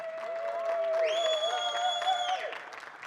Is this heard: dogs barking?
no